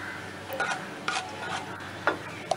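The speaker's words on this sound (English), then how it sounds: "Now I will stir for 10 to 15 seconds till the hing is fragrant" Hing (asafoetida) stirred in a hot pan for a carrot tamarind pickle, with faint scraping and soft taps of the spoon against the metal and a low background sizzle, quiet and intermittent, no talking.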